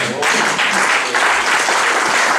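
A church congregation claps and cheers together in sustained, dense applause that stays loud and steady throughout, heard close with no speech over it.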